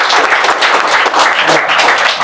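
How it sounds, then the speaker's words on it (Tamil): An audience applauds in a hall in a dense, close burst of clapping that stays loud and even throughout. "பூங்கொடி அம்மாவுக்கு இந்த சபை பலத்த கைத்தட்டல்."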